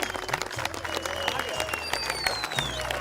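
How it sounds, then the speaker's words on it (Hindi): Audience claps loudly and continuously after a village wrestling semifinal bout, a dense crowd applause close by with a little murmur mixed in. "तो बोलो मारी जोर से ताली"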